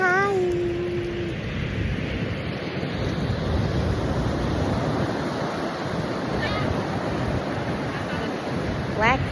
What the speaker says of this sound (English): Black Beach. This is the beach. Black sand.